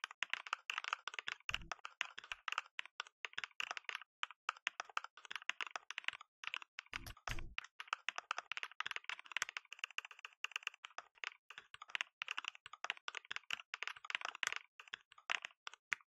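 Steady, rapid clicking of a computer keyboard as code is typed, close and continuous with a few heavier key thumps, no voices.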